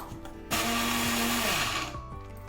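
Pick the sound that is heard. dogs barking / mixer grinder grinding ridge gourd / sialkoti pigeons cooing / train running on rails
mixer grinder grinding ridge gourd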